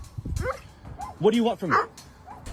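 Dogs bark and yip in short bursts during a tense outdoor confrontation, sounding fairly close and mixed in with a person speaking over them.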